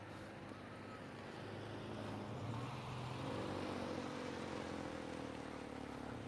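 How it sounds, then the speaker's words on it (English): A long-bed truck pulls out into traffic, its engine a broad, rumbling drone that swells slightly and then holds steady at a moderate distance with no voices. "wow, that truck's trying to really pull out without hitting a car or the pole."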